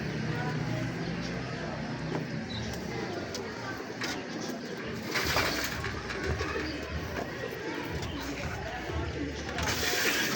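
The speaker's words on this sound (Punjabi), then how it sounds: "ਤੁਸੀਂ ਕਹਿੰਦੇ ਹੋ ਡੱਬ ਵਾਲਾ ਕਬੂਤਰ" Pigeons coo repeatedly in the background of a bird-keeping setting, a soft rolling cooing mixed with steady ambient noise and someone talking over it.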